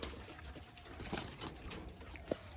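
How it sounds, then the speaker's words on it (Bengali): Punjabi Malwai pigeons cooing softly in a loft, with low murmuring coos and a few brief flutters against faint background noise. "খুব সুন্দর মালবাই পায়রা"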